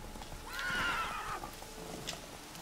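Horse in The Witcher 3 giving a clear whinny early on, with faint hoofbeats clip-clopping beneath and a quiet game soundscape around it.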